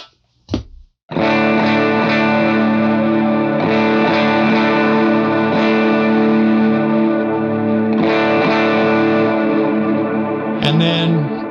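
A sustained electric guitar chord rings through an amp with a compressor pedal, thick and slightly compressed, with a second strum midway and a short note at the end.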